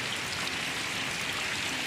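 Steady rain falls in a village where cattle have just been tied up indoors, a dense, even hiss of drops on surfaces filling the whole stretch with no voices.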